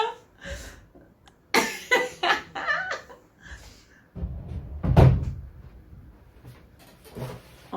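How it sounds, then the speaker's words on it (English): Door being opened and closed indoors, with knocks and thumps of the door and its latch among breathing, shuffling and brief voices nearby. "I need to close this door."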